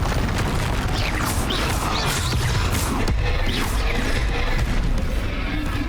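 A Confringo spell explodes in Hogwarts Legacy, dense booming blasts and crashing impacts rolling continuously through a loud, chaotic battle.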